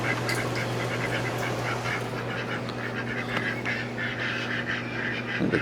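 Ducks or geese honk and quack steadily outdoors beside a homemade rain barrel, a continuous moderately loud chorus with a low steady hum underneath and no talk.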